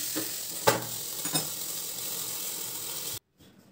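Boneless, skinless chicken sizzles steadily in a covered pan, with a soft continuous hiss and a couple of brief clinks or lid knocks, and the sizzle cuts off abruptly near the end.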